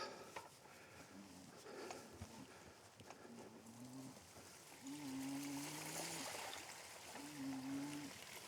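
A backcountry stream flowing across rugged terrain, a faint steady trickle and wash heard under repeated cooing birdsong.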